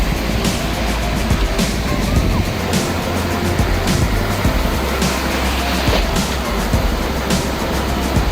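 Sea waves roll onto the north beach of Saint Martin island, a loud, steady wash of surf with a constant low rumble and periodic crashing swells, no voices.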